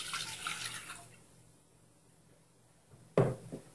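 Coconut milk pours steadily into a pot for about a second, then goes quiet, followed by a sharp clunk and a brief splash near the end.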